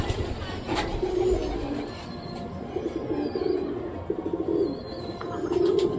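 Giribaz pigeons at a loft give soft, repeated coos in short phrases, close by, with some faint background voices and a few distant chirps.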